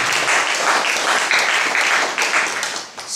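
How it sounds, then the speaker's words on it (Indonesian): Lively congregational applause fills a church fellowship gathering, many hands clapping in a thick, bright wash with scattered sharper claps standing out, holding strong before tapering slightly toward the close. "berikan dulu tepuk tangan yang lebih meriah"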